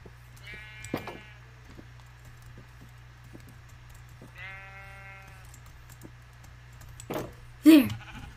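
Several sheep in Minecraft bleat in short wavering calls near the start and middle, with a louder bleat near the end, over a steady low background hum.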